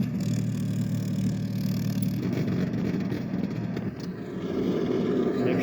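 A Merlin aircraft engine start reproduced by a Real Sound V4.1RC model sound system: a steady low rumbling drone that builds slightly with a faint rising whine, heard alone and up close.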